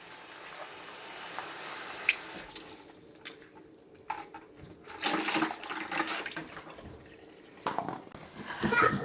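Water from a tap runs over grapes being washed at a sink, an intermittent splashing and gushing that swells louder in the second half, with light clatter.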